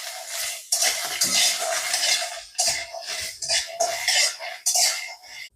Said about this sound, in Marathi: 2-3 मिनिट हे हरभरे आपण भाजून घेऊयात.